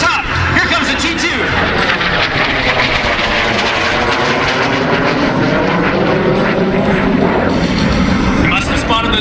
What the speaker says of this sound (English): Air Show Center, over the top! Here comes the T-2!